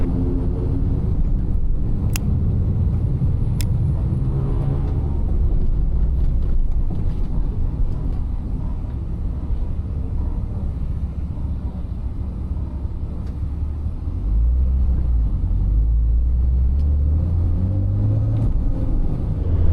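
An A31 Nissan Cefiro with an RB20DET engine driving through Bangkok at night, a steady low engine drone and road rumble with wind buffeting, continuous and close from inside the car.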